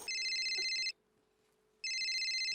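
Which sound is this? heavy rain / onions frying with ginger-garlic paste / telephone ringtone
telephone ringtone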